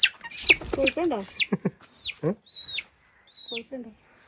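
Chickens cluck and call in short bursts close by, with rising squawk-like notes scattered through the clip and brief quiet gaps between them.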